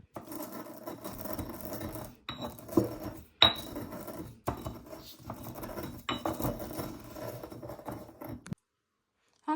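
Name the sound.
crushing eggshells with a muddler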